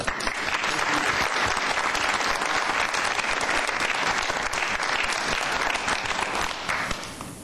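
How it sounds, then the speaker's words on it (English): A council meeting audience gives a big round of applause after an election swearing-in, dense steady clapping from many hands filling the room for about seven seconds before tapering off at the end. "Give a big round of applause"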